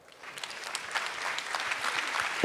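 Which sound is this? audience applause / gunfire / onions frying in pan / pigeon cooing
audience applause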